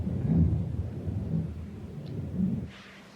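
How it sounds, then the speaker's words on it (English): Thunder from a storm outside rolls in as a low, continuous rumble, muffled and steady indoors, swelling slightly at moments with no one speaking. "it's storming out"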